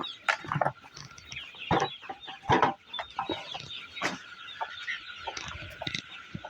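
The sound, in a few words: broiler chickens clucking on a poultry farm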